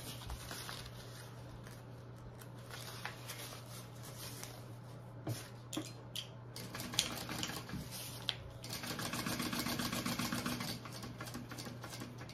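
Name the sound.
sewing machine stitching a bag seam flat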